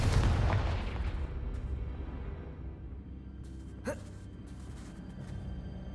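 A single heavy Confringo spell blast from Hogwarts Legacy gameplay booms loudly at the start, then its rumble fades into the game's ambient background.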